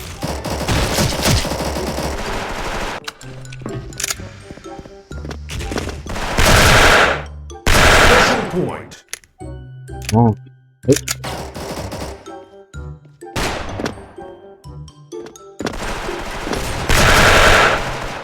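FAMAS rifle gunfire in Special Force, the Platinum FAMAS 2nd Gen, cracks out in rapid automatic bursts separated by short pauses, loud and close, with a few scattered single shots between the volleys.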